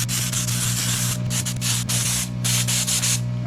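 Aerosol can of Raptor truck bed liner spraying in steady close hissing bursts, with brief pauses between passes and a constant low hum running underneath.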